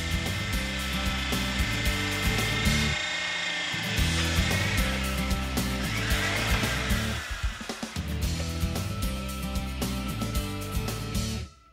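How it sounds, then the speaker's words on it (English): A Ramset diamond core drill on a Trix 160 rig whines continuously at high speed, a steady loud motor drone with a brief dip and grinding change partway before it resumes and then stops. "drilling with the Trix 160 rig"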